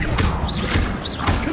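Arresto Momentum spell cast in Hogwarts Legacy: a short, dense burst of magical whooshing with rising and falling swishes over loud, continuous game effects.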